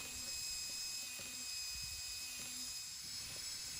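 Small power drill whining steadily as it bores many holes into a recycled plastic compost bucket, with faint repeated pitch dips as each hole breaks through, continuous and close.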